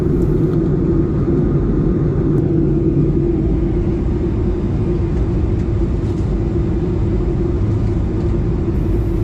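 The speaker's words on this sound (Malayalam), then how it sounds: "എല്ലാവരും ലാൻഡ് ചെയ്യാൻ വേണ്ടി റെഡിയായി, ഫ്ലൈറ്റ് ലാൻഡ് ചെയ്യാൻ വേണ്ടിയിട്ട്." Inside a passenger plane cabin on its landing approach into Abu Dhabi from Calicut, a loud, constant low engine rumble and airflow roar fills the whole stretch without letup.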